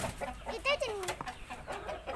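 An Indio Gigante chicken in a farm setting gives a few short clucks and a rising squawk, fairly faint and close, with people talking quietly nearby.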